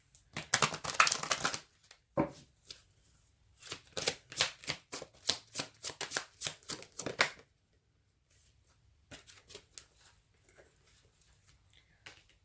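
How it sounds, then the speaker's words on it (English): Angel Answers oracle cards shuffled by hand: a loud riffling burst, then a steady series of crisp card flicks, a pause, and a few faint taps and slides at the end. "I'm just going to get a Angel Answers card here."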